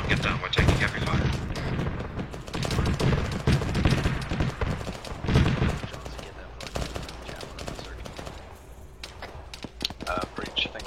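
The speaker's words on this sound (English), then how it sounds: "We're taking heavy fire." Heavy, sustained gunfire rolls on without a break, dense rapid shots and thumping impacts that are loud and close at first and ease slightly later, with voices speaking over the din.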